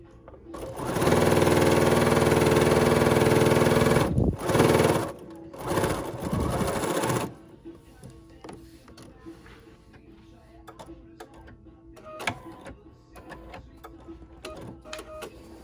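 A sewing machine stitches a strip onto an embroidered crazy quilt block, running loud and steady in bursts for several seconds before stopping, followed by quieter fabric handling and small clicks.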